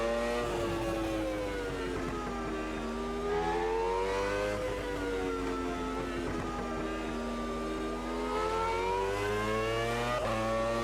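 A 1996 Formula 1 car engine in the racing game Automobilista 2 screams at high revs, its pitch dipping and climbing as the driver lifts into a fast sweeping right corner and accelerates away, loud and continuous.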